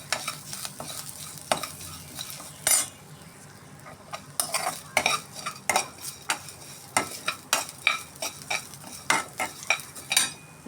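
Curry leaves, mint and coriander frying in a pan while a spoon stirs them, giving a soft sizzle under repeated scraping and clinking strokes of metal against the pan, close up and with no talking.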